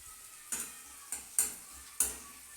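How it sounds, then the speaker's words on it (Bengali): Onions fry lightly in a pan for a cauliflower curry, a soft background sizzle broken by about four sharp utensil scrapes and clinks as they are stirred, with no voices. "পেঁয়াজটাকেও ঠিক হালকা করে এইভাবেই ভেজে নিচ্ছি।"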